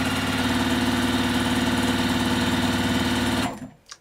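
A home sewing machine runs steadily at a fast, even stitching rhythm, loud and close, for about three and a half seconds before stopping abruptly, leaving a brief faint clatter.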